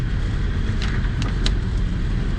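A car accelerates gently during a driving lesson, its engine a steady close rumble rising slightly with a few brief higher swells, no voices over it.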